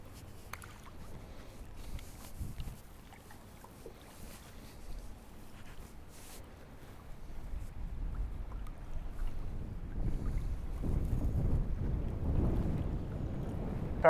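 A fishing boat cruises across the water, its motor a low steady rumble with wind buffeting the microphone, growing louder and heavier toward the end, with no talk.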